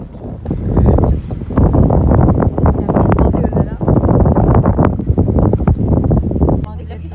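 Strong gusting wind buffets the microphone on the seafront at Kadıköy, Istanbul, a loud continuous roar with rumbling bursts that fills the whole clip.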